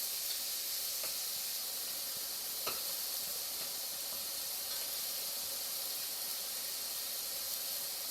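Onions and garlic softening in sesame oil for hot and sour soup, giving a steady, even sizzle and hiss throughout, with a few faint clicks from the pan.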